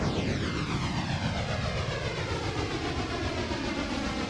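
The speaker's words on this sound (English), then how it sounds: "the game can't quite process the fact that there's two engines on this locomotive." Locomotive with two engines in the Railroader train game gives a steady, loud droning engine roar with a doubled, phasing quality, continuous and unbroken.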